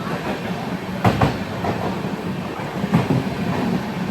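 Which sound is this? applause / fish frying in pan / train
train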